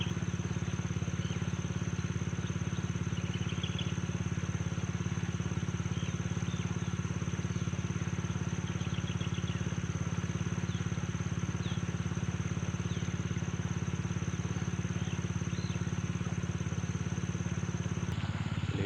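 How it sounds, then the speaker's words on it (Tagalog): Engine of a nearby irrigation water pump at a fishing spot: a steady, low mechanical drone that runs unbroken and fairly loud throughout, with faint higher chirps scattered above it. "medyo may naririnig kayong andar ng makina, kasi dito sa katabi ko ay merong water pump na nag-iikot ng tubig ng mga nagdidilig"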